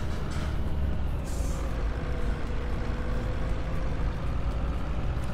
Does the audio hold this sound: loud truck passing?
yes